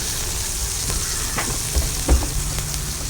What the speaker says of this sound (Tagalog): At unahin po natin igisa ang ating bawang. Sunod po natin ang ating sibuyas.